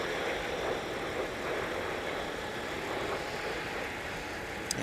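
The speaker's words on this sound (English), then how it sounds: "those IAEV 2500 engines on that United A320 sure have a distinct sound, don't they, when they are taxiing?" The IAE V2500 engines of a United Airbus A320 rumble as the jet taxis at MSP Airport in winter. The steady broadband engine roar and hiss sound moderately distant and go on without a break.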